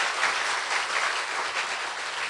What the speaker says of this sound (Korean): 이거 멀리 계시면 박수로 좀 격려합시다